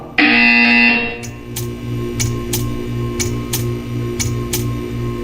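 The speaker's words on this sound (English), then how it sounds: "You will hear a buzzer." A buzzer in the Portal 2 video game: a loud electronic tone sounds for about a second, then fades into a steady mechanical hum broken by a regular series of sharp ticks.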